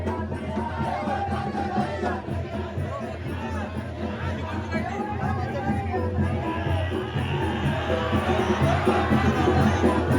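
A dense, loud crowd roars and shouts continuously at the Bahiridev Yatra village festival in Pen Vadhav, Maharashtra, with a steady babble of many voices swelling slightly toward the end.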